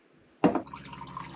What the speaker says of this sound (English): So now I reckon we just pour it and have a taste.